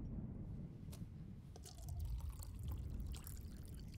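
Water poured into a cup in the video game Life is Strange, a soft, quiet trickle and dribble with a few drips against low background noise.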